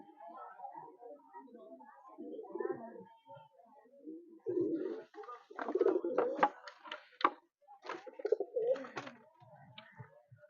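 Tournament-flown pigeons, including a male, give repeated low throaty coos in uneven bursts, quiet at first and then fuller and denser, close by against a still background.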